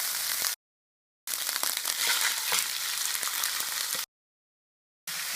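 Chicken pieces fry in a pan of browned spiced masala with garlic and ginger paste, giving a loud, steady hiss and sizzle, cut off twice by brief silent gaps.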